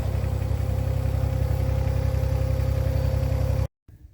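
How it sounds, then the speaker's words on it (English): Coyote NX4510 compact tractor engine idling nearby with a steady, loud low diesel-like throb and a constant hum, running evenly before cutting abruptly to near silence with a faint clatter. "So I got the tractor over here, the Coyote NX4510."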